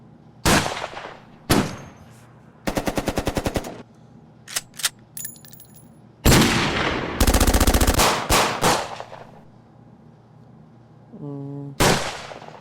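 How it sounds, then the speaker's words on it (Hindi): Gunshot sound-effect samples in FL Studio sound as loud, sharp bursts: single blasts, rapid machine-gun rattles and echoing tails, separated by near-silent gaps. "यहाँ गन पे थे हम लोग, दंग दंग दंग दंग गन चल जाए 4 बार"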